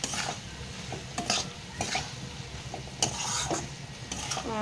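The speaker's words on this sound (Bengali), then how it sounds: "সর্ষেটাকে দিয়ে আমি কিছুক্ষণ কষিয়ে নেব।" Mustard paste with green chilli and coriander is stirred and fried in a pan, a low sizzle under rhythmic scraping and clinking of a spoon against the metal, close up, irregular strokes, no voices.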